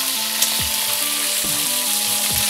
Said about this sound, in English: We're about to fry an egg.